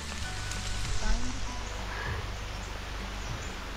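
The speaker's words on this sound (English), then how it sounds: "It is raining heavily" Steady heavy rain hisses continuously on a mountain trail in Dzukou Valley, Nagaland, a dense even wash of drops with no pauses.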